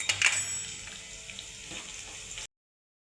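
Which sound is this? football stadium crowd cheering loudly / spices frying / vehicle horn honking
spices frying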